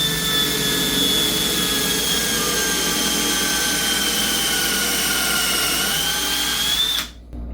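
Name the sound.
drilling aluminum with precision drill guide at 30 degrees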